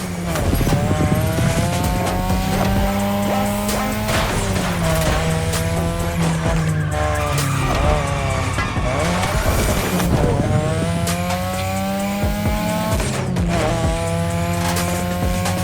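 Car drifting through touge mountain turns in The Crew Motorfest, its engine revving hard and rising and falling between corners while the tires squeal and skid repeatedly, loud and close throughout with no talk.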